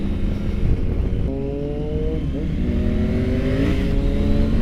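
A 2022 Triumph Tiger 900 motorcycle accelerates hard on a demo ride, engine pitch climbing through revs then briefly stuttering as traction control cuts in, close and loud with wind noise.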